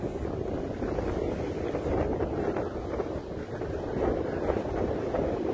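Strong wind buffets the microphone at about 34 degrees Fahrenheit out on open water after paddling, a loud, continuous rumbling gust that never lets up, with no voices.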